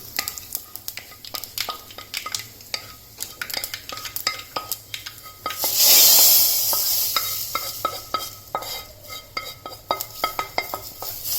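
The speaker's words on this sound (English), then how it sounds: "Switch off the flame and I'm going to add this to the simmering soup." Hot oil with spluttered curry leaves is poured into simmering Udupi-style bonda soup, giving a loud hissing rush midway. Around it come frequent sharp clinks and scrapes of utensils against the pot.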